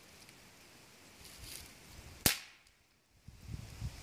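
A BB gun fires once in a quiet outdoor family setting, giving a single sharp, close crack. Faint background noise and low sounds from movement come before and after the shot.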